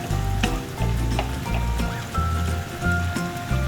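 Diced pork sisig sizzles in a pan while being stirred, a continuous crackling fry with repeated low thumps of the spoon moving the meat at a fairly regular pace.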